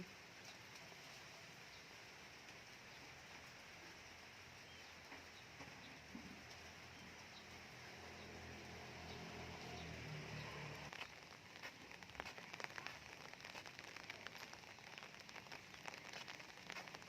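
Light rain pattering steadily on the ground at dusk while buffalo graze nearby, the shower growing a little heavier partway through, with no voices.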